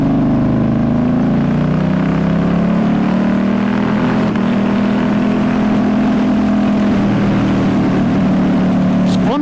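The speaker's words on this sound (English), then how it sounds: "The sound of this bike though." A 2019 Ducati Diavel S with a big V-twin engine and full exhaust drones steadily and loudly while riding, a deep continuous engine note with no talking.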